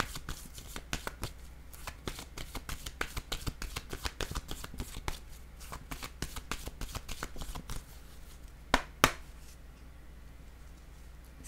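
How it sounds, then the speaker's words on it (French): Tarot cards being shuffled and laid down: a long run of quick, crisp riffling flicks and taps close by, followed by a couple of sharper slaps as cards are placed, with no talking. "Je vais déposer une autre carte pour connaître l'histoire ici."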